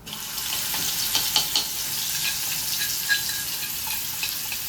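Ginger, chili and garlic paste hits hot oil with cumin seeds, making a bright, continuous close sizzle broken by a few sharp pops and spits, with no talking.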